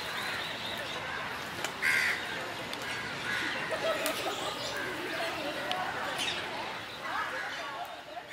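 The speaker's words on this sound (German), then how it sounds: "Hier beobachten wir die freilebenden Papageien." Free-living parrots in an Indian park give harsh, screechy calls, with a burst near two seconds and scattered cries over steady outdoor ambience and distant voices.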